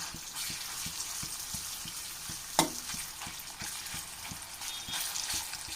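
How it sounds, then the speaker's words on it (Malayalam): Small chicken pieces fry in oil with a continuous crackling sizzle, punctuated by a soft rhythmic tapping and one sharp clink as the pieces are turned over, close and without speech. "നമുക്കിതൊന്ന് ഫ്രൈ ചെയ്തെടുക്കുക തിരിച്ചും മറിച്ചൊക്കെ ഇട്ട്"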